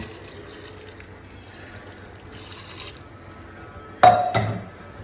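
Water splashes into a cooking pot of lentils, onion, garlic and turmeric in one short, loud burst near the end, after a stretch of quiet kitchen background.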